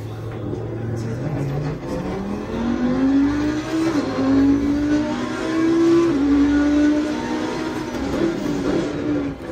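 The new Audi race car from the Challenger pack in a racing sim game, its engine droning loud and steady as it revs up through the gears with rising and dropping pitch, alone without talk.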